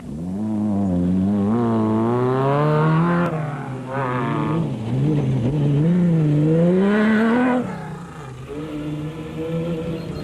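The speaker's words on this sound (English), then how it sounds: "Schilling and Davies get the Plastotech Aceco on the move again as they are passed by the Algoa scrap metal Mighty Mag single-seater" An off-road single-seater rally race car in the 2005 Lesotho Sun 400 drives past with a loud engine that revs up and down across several gear changes, rising and falling in pitch over about ten seconds, with no talk.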